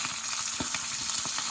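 Sausage and bacon sizzle and pop in a very hot pan for a breakfast sandwich, a steady close crackle with sharp spatters and bursts scattered throughout and no voices.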